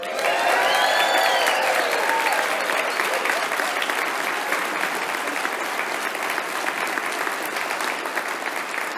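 A live audience breaks into loud, sustained applause after a keynote speech to Boettcher Scholars, with dense clapping and light cheering filling the room for the whole stretch and slowly thinning toward the end.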